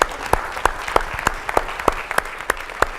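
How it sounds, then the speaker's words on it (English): Audience members at a motivational talk applaud, a crowd wash of clapping punctuated by regular, sharp, louder claps about every third of a second, like someone near the microphone clapping in rhythm. "Give yourselves a huge round of applause for being here"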